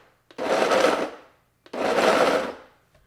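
A mixer set to low pulses brownie batter in two roughly one-second whirring bursts with a short pause between, close and loud, each starting with a click.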